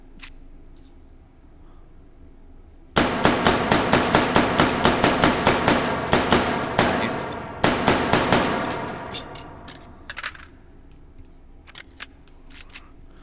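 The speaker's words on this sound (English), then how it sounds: "That rapid fire, though." Rapid automatic gunfire from a 20-round magazine weapon in the VR shooting game H3VR, a loud close burst of fast even shots, a brief pause, then another burst tapering into a few scattered single shots.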